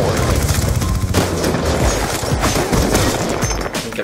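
Gunfire in Black Ops 2 multiplayer, loud dense bursts of overlapping shots and booms sustained throughout, with some voices underneath.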